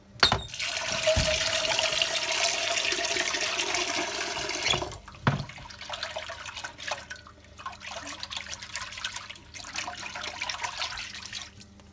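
Water pours and drains steadily off soaked pulses for a vegan lentil soup, a loud continuous rushing splash close by that eases into lighter trickling and dribbling.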